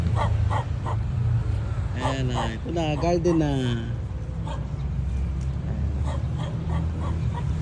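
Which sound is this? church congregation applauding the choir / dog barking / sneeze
dog barking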